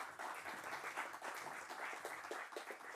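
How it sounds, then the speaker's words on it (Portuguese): Distant audience applause for Vilma Pinto at a forum on social and fiscal challenges, a steady faint wash of many hands clapping throughout. "peço também uma salva de palmas para Vilma Pinto, com todo amor"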